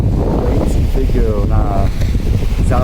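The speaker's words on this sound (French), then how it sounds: "il y a beaucoup de vent. Je ne sais pas si vous l'entendez avec le micro aujourd'hui." Strong wind buffets the microphone on Hua Hin's central beach in Thailand, a steady loud rumble throughout with faint sea and a voice speaking briefly beneath it.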